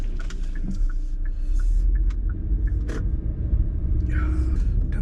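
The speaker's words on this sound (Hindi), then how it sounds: "और बाहर देखो रश और ट्रैफिक रोड के ऊपर" Rush-hour road traffic on a rainy day in Canada makes a steady, loud low rumble of passing vehicles, with some talk and brief higher noises over it.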